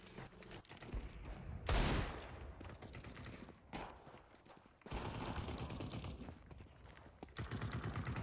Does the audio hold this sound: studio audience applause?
no